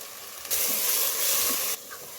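Tomato puree and salt hitting hot masala oil give a loud, steady sizzling hiss that bursts in suddenly, holds for over a second, then drops back to a quieter crackle.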